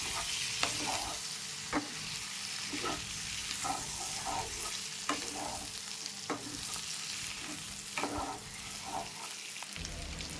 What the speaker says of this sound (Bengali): এক চামচ সয়া সস দিয়ে ভালো করে মিশিয়ে নেব।